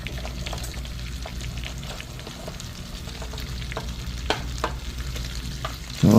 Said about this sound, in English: So I'll come in here with my cabbage and get all of this bad boy down inside of this pan.